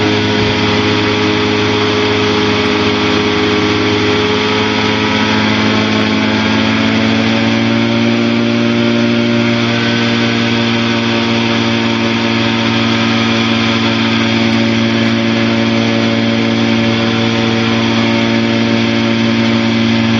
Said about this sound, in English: we're down to below 800, so I'm going to throttle up.